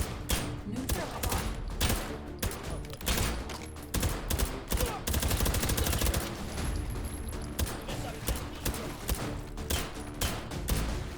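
Rapid gunfire from a virtual reality shooter game, bursts of shots and automatic fire coming in dense, loud volleys with brief gaps, under a busy game soundscape with a faint voice now and then.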